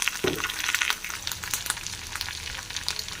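Onions sizzle and crackle in hot oil alongside bitter gourd in a pan, a busy close-up frying hiss with scattered pops and stirring scrapes, no voices.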